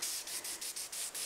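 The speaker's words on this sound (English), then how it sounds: "I'm sanding this varnish because we need to have a good mechanical bond between the varnish we put on this year and the old varnish." Sandpaper rubbing back and forth over old varnish on wood, a close, steady scratchy rasp in about six rhythmic strokes with brief pauses between them, no talking.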